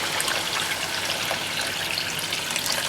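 Water poured steadily into a pot of chicken for mandi, a continuous close splashing rush with no pauses and no voices.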